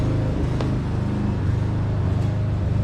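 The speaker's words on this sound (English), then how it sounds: "My neighbor's mowing the lawn right now." A neighbor's lawn mower running nearby gives a steady, rumbling engine drone that stays constant throughout, with no talking over it.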